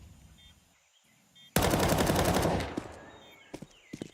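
A sustained burst of automatic gunfire in Counter-Strike 2 erupts after a quiet moment, loud and close, rattling for about a second before trailing into a few scattered shots and clicks.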